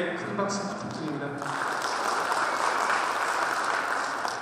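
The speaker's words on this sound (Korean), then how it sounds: "큰 박수 부탁드립니다" Audience applause at a society chairman's inauguration ceremony in Bucheon, a dense sustained clapping that swells after the first second and continues steadily, with a voice speaking over the start.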